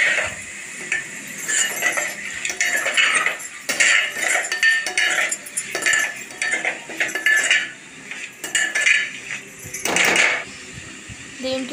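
A metal spoon scrapes and clinks against a pan while ivy gourd fry is stirred with ground coconut powder, irregular close scraping strokes in bursts with short pauses.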